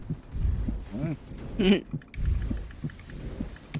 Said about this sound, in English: Once you hear the heartbeat going, you're almost dead.